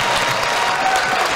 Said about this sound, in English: Hey, Steve, round of applause for you, sir.